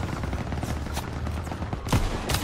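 MG-42 machine gun fire from the World War II shooter Call of Duty: WW2 rattles in loud, dense bursts amid battlefield noise, with a few sharper cracks standing out.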